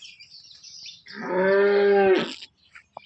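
An HF dairy cow at a bullock and cattle market gives one loud, drawn-out close moo lasting about a second, with faint background noise before and after.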